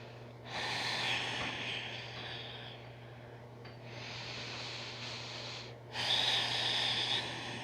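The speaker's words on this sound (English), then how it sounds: "Remember to keep breathing." Slow, deep breaths during a twisting yoga practice, three long audible exhalations through the nose and mouth, close and quiet, each a soft airy rush separated by brief pauses.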